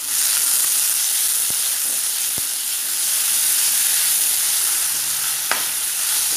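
A cup of finely chopped onion fries in about four spoons of hot oil with crackling cumin for paneer and capsicum bhurji, giving a steady, loud, hissing sizzle with a few sharp pops and no talking.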